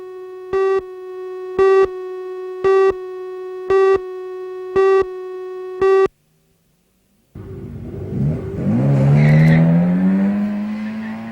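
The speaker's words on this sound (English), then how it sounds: "the Newcastle Motor Racing Club track at Ringwood is the venue for those who like competing in or watching hill climbs" Six evenly spaced beeps sound, then after a short silence a racing car is heard on the Newcastle Motor Racing Club hill climb track at Ringwood, its engine rising loud and near with rumble and whine.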